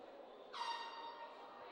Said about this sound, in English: a fan in the crowd having some fun with an air horn tonight.